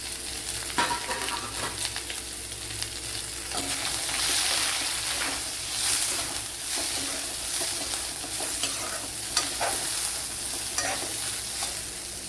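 Chopped onion fries in a pan with fennel seeds for chicken curry, sizzling loudly and continuously while a spoon stirs and scrapes, with occasional sharp clinks on the pan close by.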